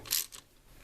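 A nut being tightened on a Ford F-250 relay during reassembly gives a brief metallic ratchet-like click burst, close and fairly quiet, followed by near silence.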